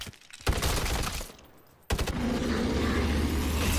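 Rapid gunfire in Call of Duty MWZ zombies mode as a zombie is shot down with headshots, dense bursts of automatic fire after a brief lull, loud and continuous.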